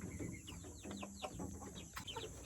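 Young chicks, two to three weeks old, peep continuously in their new coop, a dense chorus of high rising chirps from many birds overlapping at a close, steady level.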